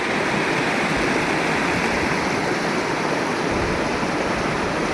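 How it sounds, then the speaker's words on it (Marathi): Water from the overflowing Jambwadi lake rushes out hard, a loud, unbroken roar close by that holds steady for the whole stretch with no voices. "अतिशय जोरात पाणी वाहत आहे तळं भरून वाहत असलेलं हे पाणी"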